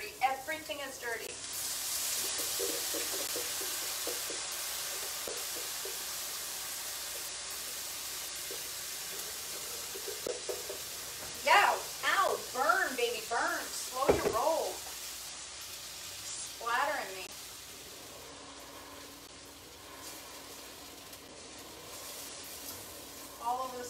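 A steady hiss of chilaquiles sauce sizzling in a hot pan fills the clip, with voices talking over it partway through.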